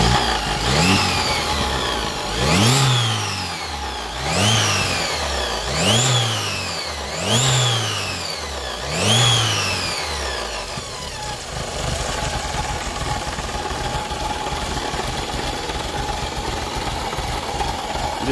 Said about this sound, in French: Bon Mathieu on dirait un 2 temps